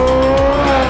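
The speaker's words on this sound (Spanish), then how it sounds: "Y este es el 918 Spider. Sound of the 918 Spider." Porsche 918 Spider hybrid, a 4.6-litre V8 with two electric motors, giving a loud, close, high-pitched engine howl that holds steady and then drops in pitch within about a second.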